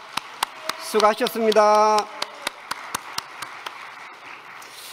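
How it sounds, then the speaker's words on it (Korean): Applause from a church congregation at a year-end thanksgiving service, a burst of clapping under a brief spoken thank-you, then thinning to scattered separate claps. "감사의 박수를 부탁드립니다."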